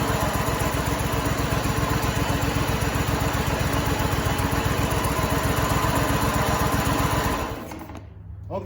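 A small engine on an old machine that won't respond to throttle runs loud and close with a steady rapid chugging as the throttle is moved back and forth, then cuts out near the end.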